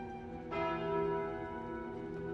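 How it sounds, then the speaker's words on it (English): A deep church-style bell tolls once from the Curse of the Bell event in the card game Slay the Spire, struck loudly after a brief pause and left to ring out with a long, humming decay. "The bell tolls."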